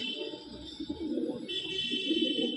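Madrasi (Andhra) pigeons coo in a loft at Sodhpur, a low, continuous throaty murmur swelling in two waves, quiet and close, with a faint steady high tone behind.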